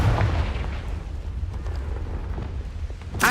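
A Confringo explosion spell in Hogwarts Legacy, heard as a deep rumbling blast that rolls on and fades, then a sharp burst near the end.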